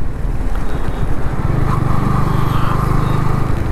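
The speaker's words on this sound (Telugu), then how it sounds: "ఈ toll gate first time bike మీద క్రాస్ చేస్తున్నాను నేను" A Yamaha MT15 motorcycle rolls through a toll gate, its engine a loud, close, continuous drone that rises in pitch midway as it accelerates.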